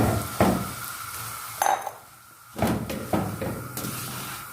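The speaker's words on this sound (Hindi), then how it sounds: "अब इसमें हम सूजी ऐड करते हैं। हल्की आंच पे हमने इसको पकाना है।" Semolina tipped into hot oil in a pan and stirred over low heat for a sweet, with clanks of a utensil against the pan, scraping and faint sizzle, close and moderately loud, no talking.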